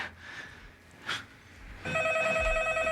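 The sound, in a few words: telephone ringing on a call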